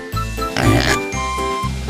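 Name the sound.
pig oinking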